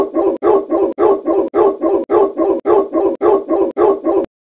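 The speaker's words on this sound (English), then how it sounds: "Like two dogs that fight over a bone." A dog barks repeatedly in steady, evenly spaced bursts, loud and close, with no other voices.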